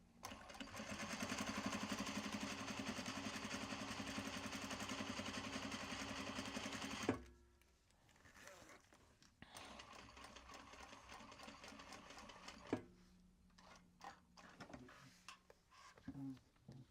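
A sewing machine stitches welt pockets in steady, fast runs, a long continuous burst followed by a pause and a second shorter run, then a few brief stitches, with faint talk between.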